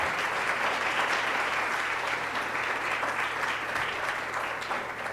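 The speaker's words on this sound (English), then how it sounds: "please give her a round of applause again," A room full of people applauds steadily and loudly, with dense, continuous clapping throughout.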